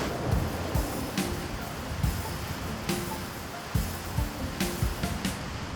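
Godafoss waterfall in Iceland roars steadily during a winter snowstorm, a dense continuous rush broken by occasional dull thumps nearby.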